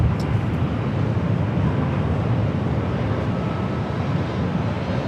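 A Delta Airlines Airbus A321neo takes off at LAX, a loud continuous jet roar dominated by deep rumble, with wind buffeting the microphone and no talking.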